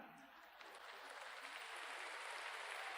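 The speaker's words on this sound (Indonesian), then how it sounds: "Kayaknya ragu-ragu tepuk tangan." Scattered, tentative clapping from a church congregation during an Easter sermon, very faint and distant, swelling slightly into a thin, steady patter with no talk over it.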